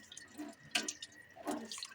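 Boiled dumplings (varenyky) rinsed under running filtered water, giving a few splashy, dripping bursts of water that come and go over two seconds.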